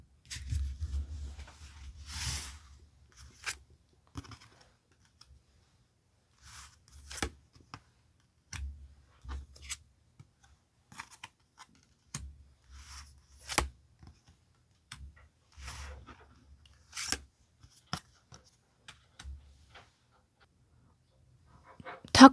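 Tarot cards are handled and five are picked out, giving quiet, scattered taps, flicks and soft rustles with long silent gaps and no talking.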